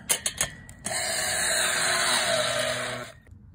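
A power drill fitted with a nut driver tightens steel handrail bolts into concrete, a few short clicks leading into a steady, loud high-pitched whirring run of about two seconds that stops abruptly.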